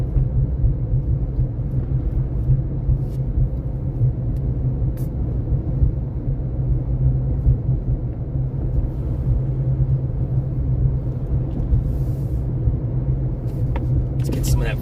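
A low, steady rumble fills a car interior during a road trip in Arizona, a continuous engine and road drone with faint occasional clicks on top.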